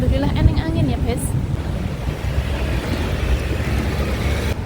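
Wind gusting outdoors near a car and motorbike parking area, a steady broad rush with faint voices and activity underneath, loud and continuous throughout.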